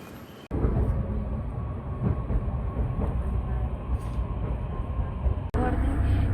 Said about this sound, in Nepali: ट्रेन पनि आइसक्यो